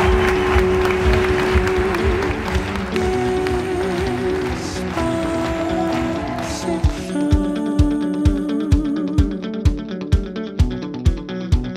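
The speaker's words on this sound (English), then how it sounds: "Everyone give them a big, big, big round of applause." Audience applause during a stage introduction, layered under loud music with sustained tones for most of the clip, then sharper rhythmic beats toward the end; the clapping is mixed in rather than alone.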